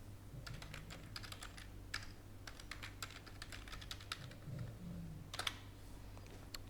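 Password keys tapped on a computer keyboard in bursts of close, soft clicks with brief pauses between, no talking over them.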